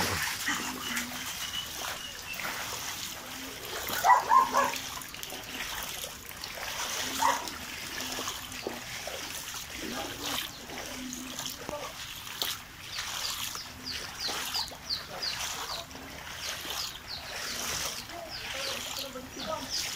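Knee-deep floodwater splashes and trickles around people wading through a flooded area, with faint sloshing and intermittent louder splashes, a dog barking at times and voices talking over it.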